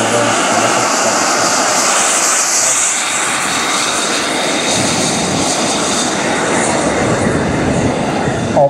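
A radio-controlled F-104 Starfighter model jet at a model jet show roars loudly and steadily, a sustained high turbine whine and rush that stays close throughout.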